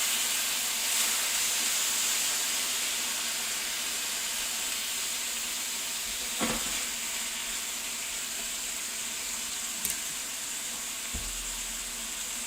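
Japanese short ribs sizzling in a pan: a steady, bright frying hiss runs throughout, with a few faint clicks and clanks of cookware near the end.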